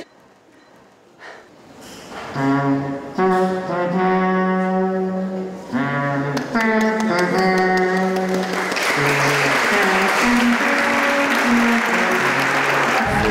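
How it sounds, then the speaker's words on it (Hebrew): A crowd of film extras on a movie set breaks into loud, sustained applause that swells and fills the scene near the end, with sung or tonal voices and breathing heard over the clapping beforehand. "יש שוט מדהים של קהל עומד ויושב ומוחא כפיים"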